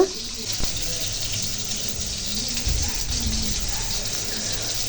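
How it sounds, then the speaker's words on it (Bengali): Cut hilsa fish being washed under a running kitchen tap, with a steady close rush of water filling the sink throughout and a few faint handling knocks. "এই তো ইলিশ মাছগুলো কেটে ধুয়ে পরিষ্কার করে নিয়েছি"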